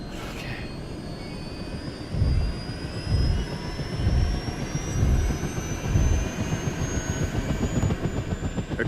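Steady roar of an aircraft engine during a medical airlift of a critically ill patient to hospital, loud and continuous with a rising high whine and rhythmic low thumps pulsing through the noise.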